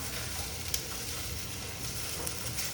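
Potatoes frying and being stirred in hot oil in a pot, a steady soft sizzle with faint clicks of stirring, fairly quiet and without talk.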